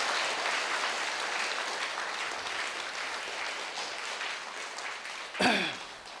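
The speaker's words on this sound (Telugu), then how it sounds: "అందరూ చప్పట్లు కొడదాం." An audience at an anniversary celebration in Belagalam, Kurnool, claps in steady, sustained applause. The clapping fades slightly before a brief thump near the end.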